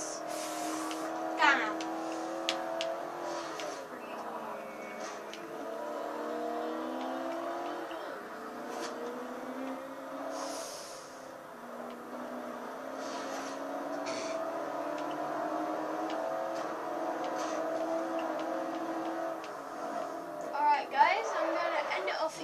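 A car engine in Forza Horizon 2 drones and shifts pitch steadily, rising and falling through revs, with a brief dip near the middle and a few sharp bumps, moderately quiet and continuous.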